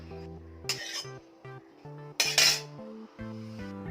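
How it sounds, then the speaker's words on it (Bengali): A wok set onto a gas stove gives two short metallic clattering bursts, one early and one louder in the middle, over steady background music. "কড়াইটা বসিয়ে দেবো"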